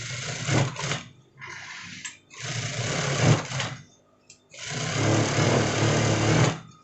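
A sewing machine stitches the front facing lining of an almamater jacket at a 1 cm seam, running in three loud bursts of steady whirring separated by short pauses, with no talk.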